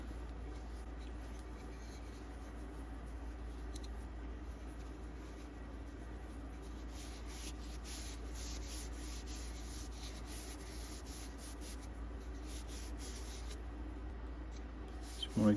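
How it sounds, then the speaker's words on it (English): Steady, soft rubbing of Johnson's wax onto a handle, a continuous low scuffing friction that carries on without pause, close by and quiet under a constant background hum. "now I gotta put some wax on it. A little bit of Johnson's wax."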